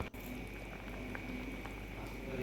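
Milk payasam boiling steadily in a pot, with a soft continuous bubbling and simmering hiss after a brief knock at the start, quiet and without speech.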